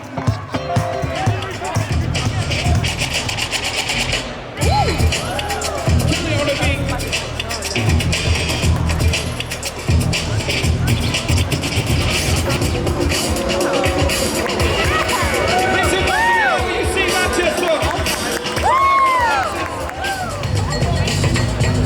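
A large outdoor crowd at the FACE Festival 2025, an international development festival: continuous loud hubbub and babble with shouts and whistles rising and falling, busy and close throughout, with talk mixed in.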